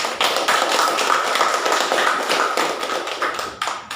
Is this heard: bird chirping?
no